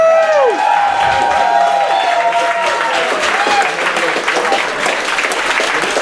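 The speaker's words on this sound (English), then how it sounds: "let's give a big round of applause for all the FBI agents who bought tickets." A theater audience in New York bursts into loud, sustained applause with cheering and whoops, dense clapping filling the space from start to finish while a voice briefly sounds over the opening.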